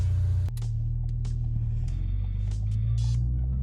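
Ford Focus RS on a test drive, a steady low engine and road hum filling the cabin, with a few light clicks and knocks on top and no speech.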